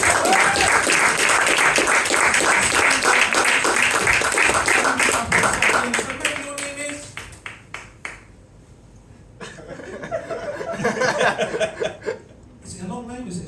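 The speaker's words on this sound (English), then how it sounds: "So give these guys a massive round of applause." The audience at a comedy hypnosis show at a fringe festival claps loudly, then the applause fades into scattered claps and chuckles, followed by a brief second swell of clapping mixed with voices.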